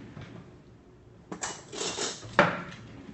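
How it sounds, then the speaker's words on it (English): A kitchen drawer is pulled open and a metal spoon is picked from the cutlery inside, with a sliding rattle and a jangle of silverware, then a sharp clink, close and fairly quiet. "Let me get a better spoon."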